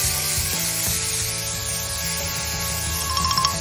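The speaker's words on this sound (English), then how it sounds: "First, we apply the primer spray." Primer spray hissing steadily onto a pair of sneakers during a shoe-customizing job, a continuous close, fairly loud spray with faint rubbing and handling sounds mixed in.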